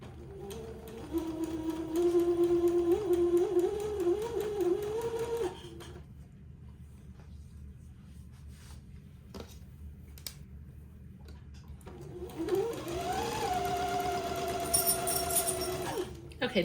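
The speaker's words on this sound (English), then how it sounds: "slowly sew my elastic casing along the bottom of each leg opening" A sewing machine stitches elastic casing along the leg openings of a garment, its motor whining in two bursts of several seconds each, separated by a quieter pause with faint clicks.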